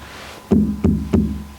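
Three firm knocks on a door, evenly spaced and close, each a sharp low thud with a brief ring-out, heard alone without voices.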